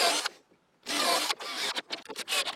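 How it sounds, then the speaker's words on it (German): A drill bores a few holes into wood to fasten a homemade jig for making star knobs, giving short harsh bursts of grinding with brief pauses between them. "jetzt bohren wir hier ein paar Löcher rein, um das Ganze zu befestigen"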